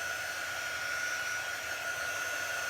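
A heat tool drying a chalk transfer blows a steady, even whoosh of air, continuous and close, with a faint whine running through it.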